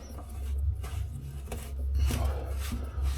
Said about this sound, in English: So while I'm tightening, I'm also pulling down on the drain.